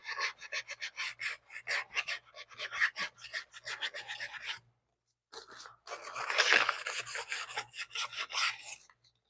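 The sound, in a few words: wet sanding car paint with brake cleaner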